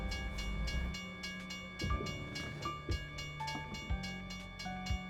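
A freight train rolls past a railroad crossing in an Oklahoma truck-driving game, a steady loud rumble of wheels with rhythmic clacks and repeated thumps, close by and without talk.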